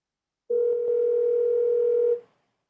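Telephone tone heard after a disconnected call: a single steady electronic hum starts abruptly, holds for under two seconds with a faint click near its start, then cuts off into silence.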